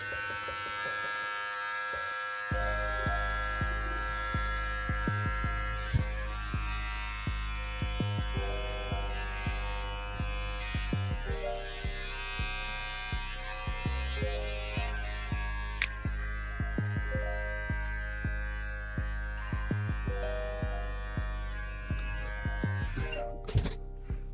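An electric trimmer buzzes steadily and up close while trimming a beard, with a continuous hum that pulses slightly as it passes over the hair and cuts out near the end; no one speaks.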